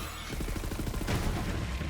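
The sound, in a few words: gunfire from the Ridian gun in Borderlands 3 video game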